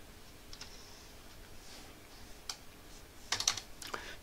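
Password typed on a computer keyboard to log in to a CentOS virtual machine: a faint, sparse run of light key clicks, a few isolated taps early and a quick cluster of keystrokes near the end, close and quiet.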